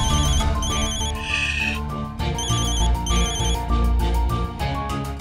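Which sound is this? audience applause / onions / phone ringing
phone ringing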